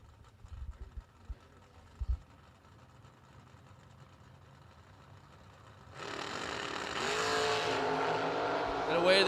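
Drag racing cars idle quietly with a few low rumbling blips before launching into a loud, broadband roar that builds and holds to the end, under a track announcer's commentary.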